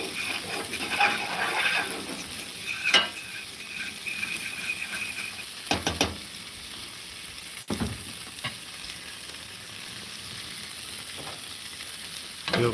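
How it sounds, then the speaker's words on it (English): Chicken and butter frying on a Blackstone griddle, a steady close sizzle and bubbling with occasional scrape and tap sounds from utensils, no talking. "Chicken's bubbling."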